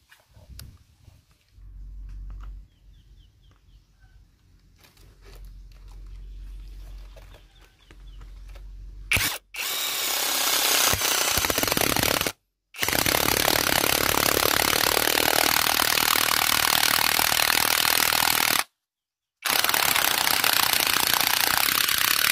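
A Tanzu MT-21V TZ-980 cordless 3-in-1 impact wrench starts after a quiet lead-in. It then hammers loudly and continuously in long, close bursts, broken by two brief pauses.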